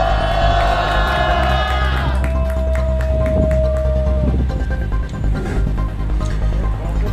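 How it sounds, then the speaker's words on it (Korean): A crowd at a protest rally claps and cheers, a steady dense wash of applause filling the whole stretch, with a brief whistle-like tone in the first half. "큰 박수로 맞이해 주시기 바랍니다."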